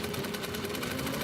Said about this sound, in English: I've got it as slow as this servo motor will go, and it's still fast